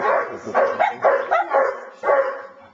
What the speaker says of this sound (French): Regarde le chien comme il est, regarde.